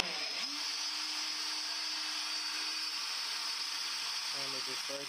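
Power tool spinning a bushing against 80 grit sandpaper, a steady close whirring drone with an abrasive hiss that shifts pitch near the end.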